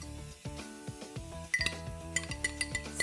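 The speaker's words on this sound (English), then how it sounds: "I'm going to take a little bit of milk and mix some corn flour in it." A spoon stirs corn flour into a little milk in a small bowl. Quiet, irregular clinks and taps of metal against the dish come in short bursts, growing brisker toward the end.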